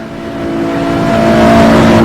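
GT3 race car engine howling at high speed near 300 km/h on a downhill straight, a loud sustained close-up drone with steady harmonics that climbs slightly as it pulls, with no gear change.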